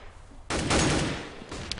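Gunfire in the video game Counter-Strike on the Mirage map: a sudden loud burst of shots that decays over about a second, then a brief sharp sound near the end.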